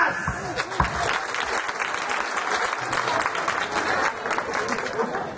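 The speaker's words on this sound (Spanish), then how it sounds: "Quiero escuchar un fuerte aplauso, mamás." Audience applause for the mothers at a Mother's Day celebration, dense steady clapping that holds throughout at fairly loud, even level with crowd noise and no break.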